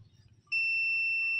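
After a quiet low hum, a multimeter's steady high-pitched continuity beep switches on abruptly and holds continuously, close and fairly loud, while testing a fan's fuse.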